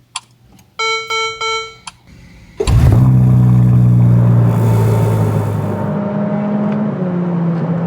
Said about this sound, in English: we're gonna hop in the SF90 and go ahead and get going out on the road